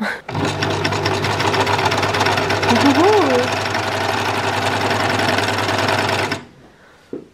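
A new overlock serger switched on for the first time hums and clatters loudly and steadily for about six seconds, then stops abruptly, with a brief click after and a voice speaking over it.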